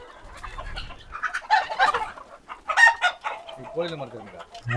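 Several chickens cluck close by, with a rooster crowing near the end; faint background murmur throughout.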